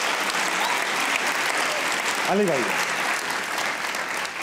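A studio audience at a comedy talk show claps in steady, dense applause that runs loud throughout, with a short spoken call over it partway through.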